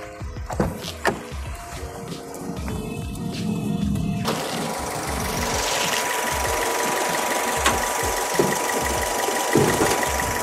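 Engine of a third-generation Toyota Vios Limo sedan runs with a steady idle hum and a rhythmic ticking clatter. The sound grows fuller and louder partway through and then holds a constant drone.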